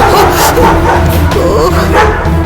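Dogs bark and yip repeatedly, loud and fairly close, over a noisy, cluttered background.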